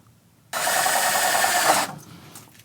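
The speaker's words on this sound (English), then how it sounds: "To attach your keeper, use the self-tapping screws found in your hardware bag." A power driver runs one continuous burst of just over a second, sinking self-tapping screws into the keeper of a PGT Sparta 4130A sliding glass door, then stops abruptly and leaves quiet afterward.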